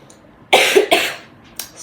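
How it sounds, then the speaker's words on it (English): A person coughs twice in quick succession, loud and close, followed by a softer short cough or throat sound. "Je tousse."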